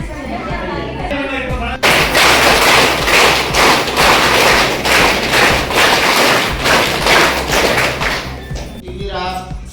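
Audience applause at a review meeting of health services in a referral hospital: dense, steady clapping for about seven seconds, loud and close, with speech just before and after.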